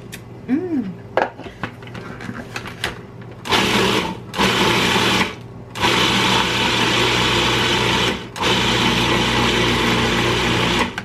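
An electric mixer churns thick chickpea chocolate chip cookie dough, running in several long loud bursts separated by brief pauses, with a little clatter and a short voice sound at the start.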